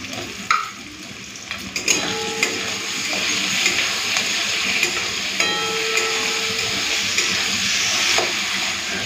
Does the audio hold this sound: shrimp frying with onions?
yes